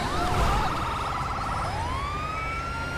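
Ambulance siren from the LSPDFR EMS mod in GTA, a loud, steady electronic wail sweeping up and down in pitch and then holding a high tone, with engine rumble beneath.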